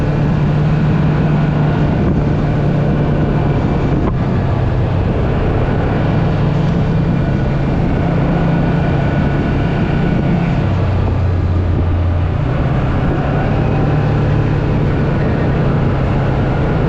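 A 2026 Kawasaki PRO-FXT 1000 LE UTV engine accelerating: a loud, steady drone with low humming that shifts slightly in pitch, plus continuous road and wind rumble throughout and no break.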